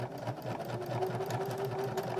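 A sewing machine back stitches a small fabric gnome ornament with a quick, steady mechanical whir and needle clatter, heard close and fairly quiet.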